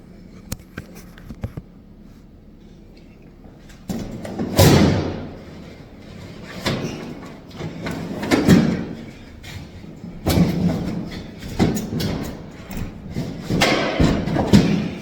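A Samsung refrigerator drawer is yanked out with force, sounding as a series of loud thuds, scrapes and knocks spread over several seconds, close by and without speech.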